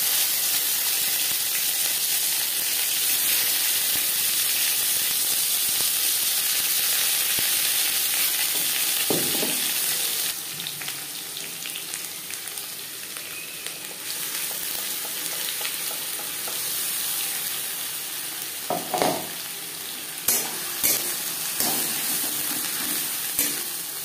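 Ghatkol leaf paste sizzling in hot mustard oil with fried dried red chillies, a loud steady hiss that drops partway through, followed by scattered stirring scrapes and pops near the pan.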